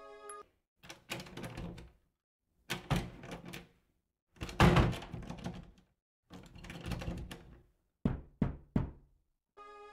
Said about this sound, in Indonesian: terdengar ada yang menggedor-gedor pintu kamar mandi tersebut